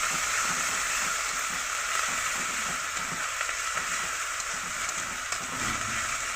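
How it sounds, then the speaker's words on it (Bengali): Ginger-garlic paste hits hot oil while a potato and fish curry is being cooked, giving a steady, bright sizzle and crackle that holds evenly throughout with no voices. "এবার আদা রসুনের পেস্ট পড়বে। এই যে আদা রসুন চলে আসছে।"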